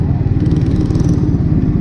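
A Suzuki GSX-R1000 sportbike fitted with a big aftermarket exhaust rumbles close by in a steady, deep, loud engine drone, with no one talking.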